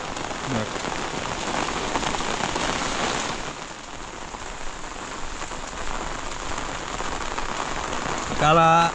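Heavy rain pours in a Konkan village beside planted fields, a dense, steady hiss of drops on surfaces throughout, with a brief voice near the end.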